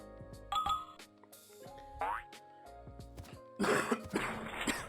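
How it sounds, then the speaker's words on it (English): A few short coughs and throat-clearing sounds, close by, separated by quiet gaps, with a harsher burst near the end. "This stupid fucking cough is killing me"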